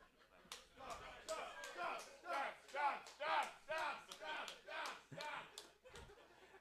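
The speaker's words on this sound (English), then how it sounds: "A nice cheer for Dobbs," A crowd at a curling bonspiel cheers a fan-favorite player, with rhythmic claps and raised, shouting voices coming in repeated bursts.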